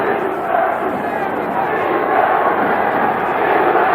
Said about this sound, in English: The crowd now calls for defense